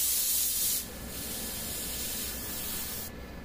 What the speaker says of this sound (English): Moving on to our yellow overcoat through the airbrush.